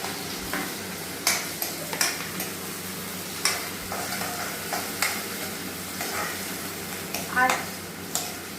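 Oil sizzles quietly in a hot kadhai on a gas stove, a soft steady crackle broken by a few sharp clicks and scrapes.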